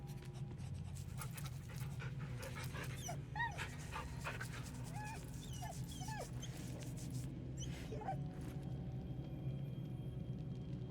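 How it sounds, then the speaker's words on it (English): A puppy in the Baldur's Gate 3 video game pants softly and steadily while being petted, with a few faint whimpers and yips, all quiet with a low background hum and hardly any speech. "Pet the puppy."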